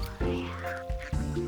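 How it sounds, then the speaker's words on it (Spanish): A duck quacks in a few loud, nasal, close-up bursts separated by short gaps. "Puedes verte como un pato y graznar como un pato"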